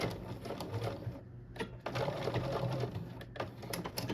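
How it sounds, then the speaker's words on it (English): A sewing machine stitching slowly through vinyl on a geometric hoodie, its needle producing a quiet, steady rapid patter with two brief pauses, close and alone. "And just sew slowly and make sure that you're not sewing too fast, because in my case, since I'm stitching on vinyl"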